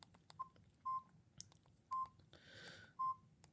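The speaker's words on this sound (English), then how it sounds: "It has the same keypad sounds as the T105G." A Samsung SGH-T105G phone's keypad gives four short, clean beeps at uneven intervals as keys are pressed, each tone close and distinct above faint button clicks and a low background hiss.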